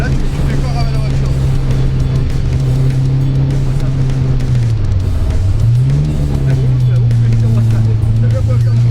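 Renault 8 Gordini 1300 with a five-speed gearbox, its engine droning loudly from inside the car at a steady pitch that dips briefly as revs fall and then climbs again.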